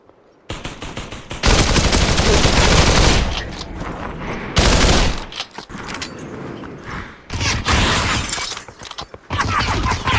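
Loud, dense gunfire in the VR shooter Population One, with sustained automatic bursts and rapid volleys filling most of the stretch, broken by brief pauses.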